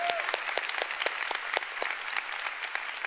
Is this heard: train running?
no